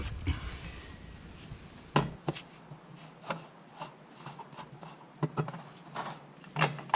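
A car jack raises a car to take pressure off a tire before the lug nuts are loosened, giving faint, close ratcheting clicks and scraping creaks at an irregular pace, with sharper metallic ticks now and then.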